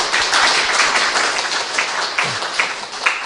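Congregation clapping in thanks during a Sunday worship service at a Presbyterian church in Jeju, loud, close and continuous for several seconds with no talking.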